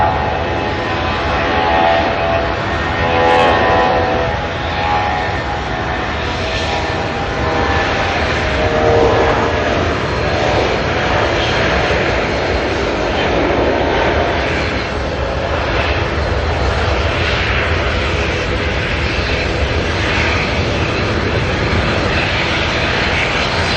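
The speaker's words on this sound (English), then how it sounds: "We do have a Jetstar going out." A Jetstar Airbus A320 departs Auckland Airport in the evening, its engines roaring as a broad, steady rumble that swells and shifts over time, heard from a distance outdoors without talk.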